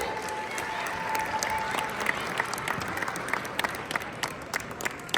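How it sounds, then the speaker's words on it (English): Crowd applause at an interfaith holiday dinner gathering in a large hall, sustained dense clapping from many guests with scattered sharper claps standing out, filling the room at a steady level. "Can we get one more round of applause for all of them, please?"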